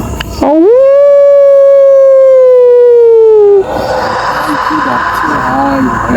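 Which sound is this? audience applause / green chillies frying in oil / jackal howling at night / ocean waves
jackal howling at night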